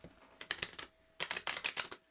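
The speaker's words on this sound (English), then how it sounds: "I do shuffle these cards live on the podcast." A deck of tarot cards is shuffled by hand in two quick riffling bursts of crisp, fluttering clicks, close and moderately quiet, separated by a short pause.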